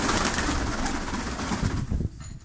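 Pigeons cooing at a pigeon club, a dense, continuous chorus of low, throaty coos from many birds close by, with no talk.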